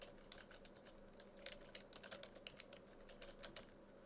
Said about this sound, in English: You can type in the title here,